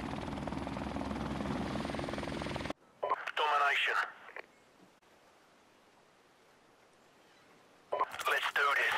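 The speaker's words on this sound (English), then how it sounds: "Enemy helicopter inbound." Enemy helicopter in Call of Duty Modern Warfare Remastered, its rotor thump and engine drone flaring in short loud bursts between quiet gaps, after a dense stretch of game noise.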